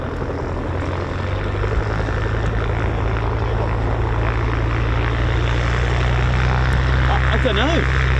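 Small propeller plane at RAF Waddington airfield, a steady, droning engine hum with a low tone that strengthens partway through and stays loud and continuous to the end.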